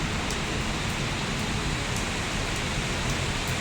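Steady rain falls outdoors in an even, dense hiss with no breaks, moderately loud and close, with no voices over it.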